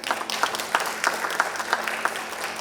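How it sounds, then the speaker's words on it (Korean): Applause from an audience at the 2025 The Fact ESG management awards ceremony, a steady patter of many hands clapping at moderate loudness, with a faint voice underneath. "박수 부탁드리겠습니다."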